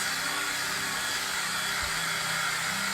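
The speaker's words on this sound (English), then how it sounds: "I'm gonna turn this hair dryer on low really quick so I can get this dry" A steady, airy whir of a hair dryer on a low setting runs without a break, with a faint low hum underneath.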